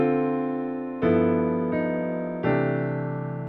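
A sustained piano chord rings, then shifts to new voicings three times, each change struck softly and left to decay, with no talking.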